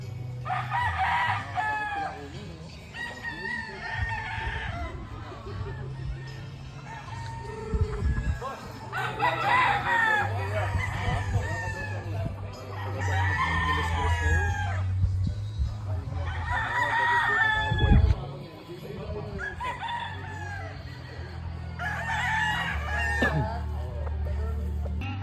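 A rooster crows repeatedly, several loud calls spaced through the clip, with chickens clucking and voices talking in the background.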